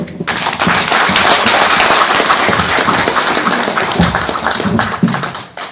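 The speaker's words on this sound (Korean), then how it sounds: "한 박사의 노력의 소리 박수로 한번 채워드립시다." An audience at a trout-farming anniversary ceremony claps in a dense, crackling burst of applause, close and loud, sustained for several seconds before tapering off.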